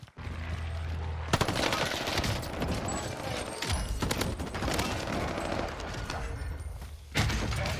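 Bren machine gun bursts in the shooter Warzone, sustained rapid automatic fire close and loud, with brief pauses between long strings of shots.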